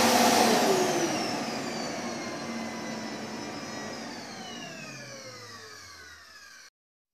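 A Samsung SC8870 TWIN vacuum cleaner runs loudly alone, starting at full whine and then dropping to a lower power setting before cutting off abruptly near the end.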